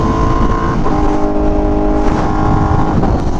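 A Honda Fireblade RRR SP fitted with a full titanium exhaust drones loud and near, its raspy engine tone sustained with small shifts in revs and no voices over it.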